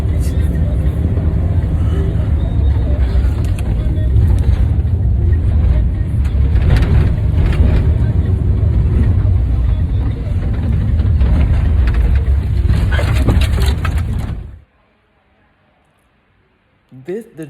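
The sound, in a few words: car driving through traffic in Africa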